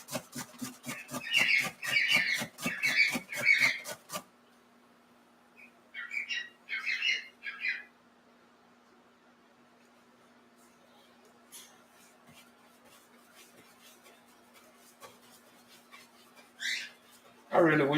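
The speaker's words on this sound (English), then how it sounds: "when these birds go to screaming like that" Pet birds squawk and screech loudly in repeated bursts near the start, then several shorter harsh calls follow over a steady low hum, with more squawks toward the end.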